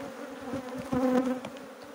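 Honeybees buzzing close around split hive colonies, a steady humming drone that swells briefly in the middle, with no voices.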